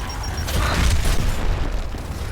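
A frag grenade explodes in Gears of War: Ultimate Edition, a loud, close, rumbling boom that fills the moment and rolls on without a clear decay.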